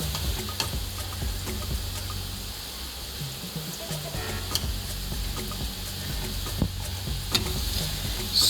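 Jamaican fried dumplings frying in oil over a low flame, a steady close sizzle with faint clicks and occasional stirring, no talk.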